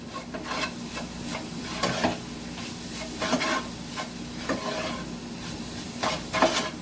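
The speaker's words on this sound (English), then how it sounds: "Give this a good mix." A spoon stirs melted sugar tinted with red gel colouring in a pot, giving repeated scraping and swishing strokes with a faint sizzle underneath, steady and close with no talking.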